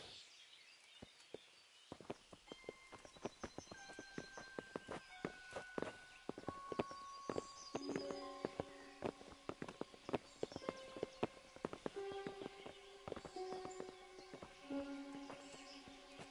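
Horses' hooves in Kingdom Come: Deliverance clip-clop in a steady walking rhythm, fairly quiet and close, joined by a scattering of faint tonal sounds and light background ambience.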